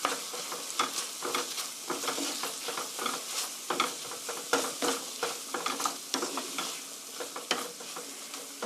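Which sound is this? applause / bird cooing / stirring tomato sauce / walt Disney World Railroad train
stirring tomato sauce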